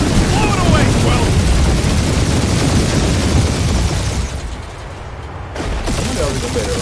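Blasts of gunfire and explosions tear through debris in the Guardians of the Galaxy video game, a loud, dense barrage with rumbling booms. It briefly dips mid-way, then resumes under game chatter.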